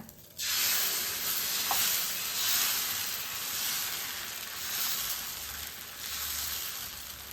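Spicy kara dosa batter poured onto a hot pan, a sharp onset followed by a steady sizzling hiss that swells and eases in gentle waves, loud and close, with no talk.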